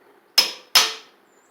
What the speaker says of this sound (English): lightly tap with a hammer.